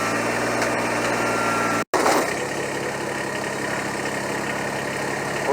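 A Kubota BX80-series compact tractor engine runs at a steady idle-like drone while the tractor drives into its front loader, with a brief sharp dropout near two seconds before the even rumble resumes.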